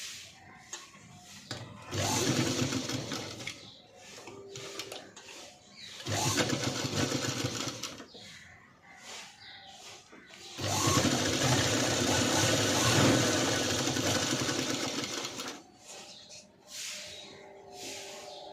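A sewing machine double-stitching a padded blouse runs in several bursts of steady whirring of varying length, separated by brief quieter pauses, close and moderately loud.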